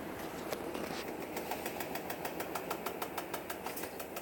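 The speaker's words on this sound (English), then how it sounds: "that is my actual hand sliding against the tub as a brake" GE top-load washing machine tub coasting down after a cut spin cycle, slowed by a hand rubbing against it as a brake, giving a steady whirring hum with rapid rhythmic scraping pulses, close and moderately quiet.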